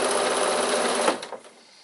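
A sewing machine runs a fast, even stitching burr along the seam of a piped fabric bag, loud and close, then stops abruptly with a couple of short mechanical clicks as it winds down.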